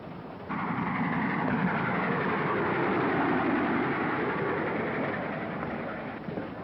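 A moving passenger train rolls steadily along, carriages clattering in a continuous rumbling wash that swells just after the start and holds at an even, fairly loud level throughout.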